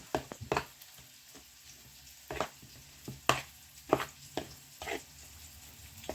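Chicken mince being stirred into a grated zucchini mixture, with a series of soft, irregular scraping and clinking strokes of a spoon against the bowl, close and moderately loud.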